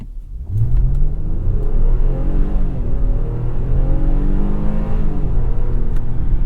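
A 2022 Nissan Pathfinder SUV engine revs up strongly and holds a loud, steady growl, rising in pitch as it accelerates, close and continuous with no talking.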